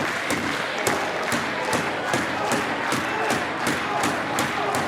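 Wrestling crowd at a live Pandemonium 2024 event roaring and cheering steadily, with rhythmic claps or thumps pulsing through the dense, loud crowd noise.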